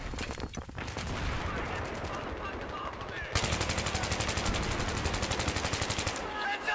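Rapid automatic gunfire in Battlefield 3 multiplayer, loud dense bursts of rattling shots that break briefly then resume in a fast, steady machine-gun rhythm, with someone talking underneath.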